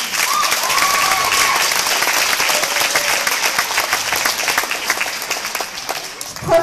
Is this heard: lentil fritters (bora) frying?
no